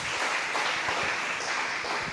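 A church congregation applauding during a sermon, a brief, even burst of many hands clapping at a steady level throughout, with no speech over it.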